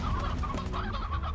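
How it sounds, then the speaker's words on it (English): Chickens in the video game Slime Rancher cluck in busy, overlapping bursts, close and steady throughout a brief moment. "Chickens."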